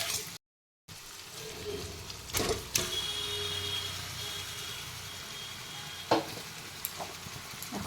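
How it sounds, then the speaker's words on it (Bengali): Tomatoes are stirred and fried in a pan for a chicken, egg and potato curry, giving a soft continuous sizzle with a few scattered scrapes and knocks from the stirring. "চলো টমেটোটা দিয়ে একটু নাড়াচাড়া করে নিলাম"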